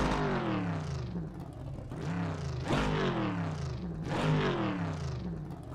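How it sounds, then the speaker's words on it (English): A Chevrolet Corvette in the rFactor 2 racing sim growls through repeated rising revs and gear changes, its engine note climbing and dropping in a steady rhythm at an even, moderate level with no talk. "They tend to growl, these cars."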